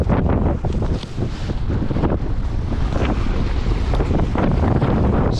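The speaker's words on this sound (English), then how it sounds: "The wind's really picked up." Strong wind buffets the microphone steadily aboard a small sailing dinghy off Cyprus, with rushing water and waves underneath, loud and continuous throughout.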